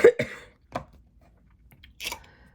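Several short, raspy coughs come in a quick burst, followed by a pause and one more throaty cough, close up.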